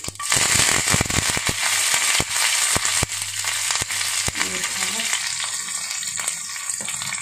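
Curry leaves crackle and spit loudly in hot oil on a gas stove, a dense sizzle broken by sharp popping bursts in the first few seconds, then settling into a steadier hiss with no talking.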